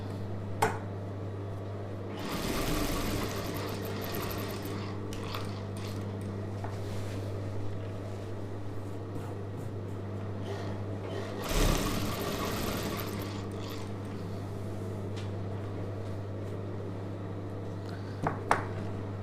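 A sewing machine runs stitches along a chudidhar neck, with two louder bursts of fast needle whirring about ten seconds apart over a constant low mains hum and quieter mechanical rattling between.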